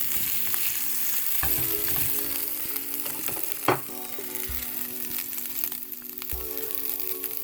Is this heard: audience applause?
no